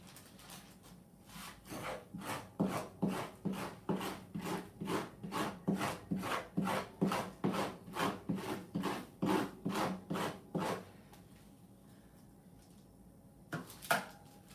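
Halibut meat is scraped off with a tool in a steady series of about twenty rhythmic, close rasping strokes, evenly paced. The scraping stops for a quiet stretch and then resumes with a couple of final strokes.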